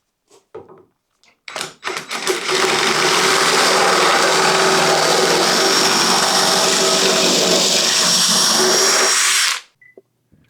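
A drill-driven dowel maker cuts a dowel from old pine, 9mm size, in one long, loud, steady whirring grind lasting about seven seconds. A few short knocks and bumps come before it.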